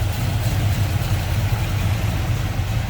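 A 1965 Ford Mustang Fastback with headers, HEI ignition and an Edelbrock carburetor idles with a steady, loud, low rumble, close by and unbroken by talk.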